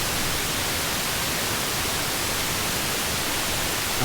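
Steady pink noise from a GMSN Pure Noise Eurorack synth module, a continuous, even hiss with a warm, rounded low end, loud and unbroken throughout with no other sounds.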